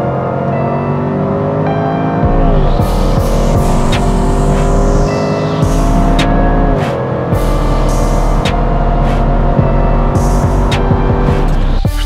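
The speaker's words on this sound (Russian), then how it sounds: "А чего стоит здесь рев выхлопной системы?" A Range Rover Sport SVR with 560 hp gives a loud, close exhaust roar. The engine revs rise and fall through several surges, with sharp crackles and pops, and the roar fills the whole stretch without any talk.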